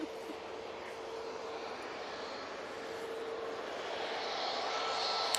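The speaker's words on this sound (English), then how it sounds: "Tui coming down, Victor Alpha." A TUI Boeing 737 MAX 8 comes in at Manchester Airport, its engines a faint, distant roar that grows slowly louder toward the end, with a thin whine appearing early on.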